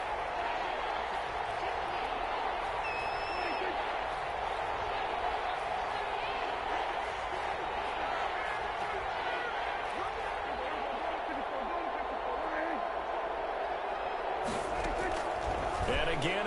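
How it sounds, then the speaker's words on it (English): A dense, steady roar from the crowd inside a domed football stadium during an NFL goal-line series, sustained and loud throughout, with broadcast commentary over it. "The crowd here in the Dome making things difficult."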